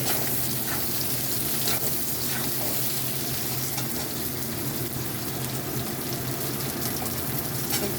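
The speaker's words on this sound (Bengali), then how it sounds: "পেঁয়াজটা নেড়ে ছেড়ে দেবো" Onion frying in a pan for a Malabar spinach dish, a dense steady sizzle with faint stirring scrapes now and then, close and fairly loud, no talking.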